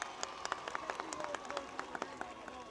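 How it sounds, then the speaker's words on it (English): Scattered, faint hand claps from a small crowd ring out in quick uneven bursts, saluting the Fairview and West End fire companies at a volunteer firefighters' bicentennial event, heard at a distance. "Give him a big round of applause"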